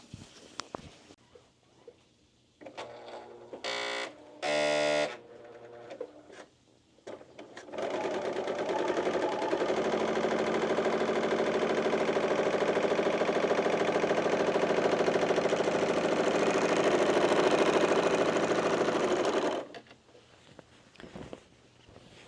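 Sewing machine stitching on a pocket piece runs in a steady, loud whir for about twelve seconds, preceded by a few short starts, clicks and handling noises, then stops abruptly.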